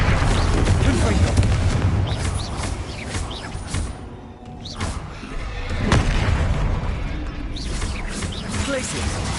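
Explosive Confringo spell blasts from Hogwarts Legacy, heavy booming bursts over dense layered game action, with loud impacts recurring through the clip amid shouted spell names.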